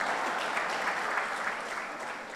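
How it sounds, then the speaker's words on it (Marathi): Audience at a political gathering claps together in a dense, sustained burst of applause that fades slightly toward the end, with no speech over it. "आता टाळ्या वाजवा."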